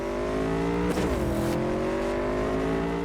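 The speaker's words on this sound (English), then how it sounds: "The team also clearly spent a lot of time revamping the driving along with the various sounds these asymmetrical monstrosities emit." A car engine in the video game Cyberpunk 2077: Phantom Liberty hums steadily, then shifts sharply with a rising, whooshing rev as the car speeds on, with no talk over it.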